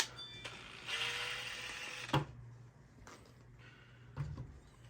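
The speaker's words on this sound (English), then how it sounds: "there's a bunch of T10s in there. So we're just going to start taking them out" Small T10 Torx screws being backed out of a Mercedes-Benz C218/W212 COMAND controller: a few sharp clicks and light scraping knocks at close range over a faint steady hum, with no talking.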